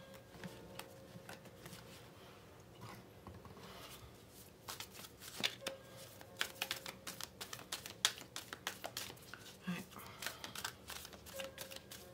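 Tarot cards are shuffled by hand for a reading, giving a steady run of crisp, close flicks and riffling snaps that quicken and grow louder partway through.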